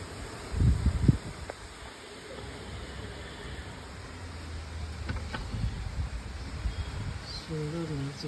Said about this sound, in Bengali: বৃষ্টি হতে খুব কষ্ট হচ্ছে, শুধু হাওয়া দিচ্ছে